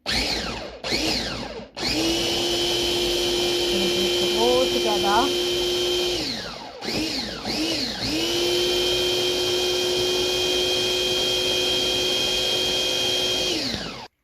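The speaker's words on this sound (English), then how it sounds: "my blender just broke, my hand blender, so I've had to transfer it into this one" An electric blender whirs loudly in several bursts blending tamarind date chutney, with brief pauses between runs; a voice speaks briefly during the pauses.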